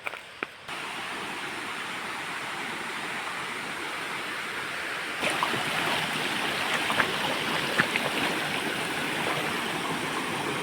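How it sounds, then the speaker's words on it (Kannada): Steady rushing of flowing water, continuous and fairly loud, with a couple of faint knocks near the start and a slight rise midway. "ನೋಡಿ ನೀರು ಎಷ್ಟು ಚಂದ ಬರ್ತಾ ಉಂಟು"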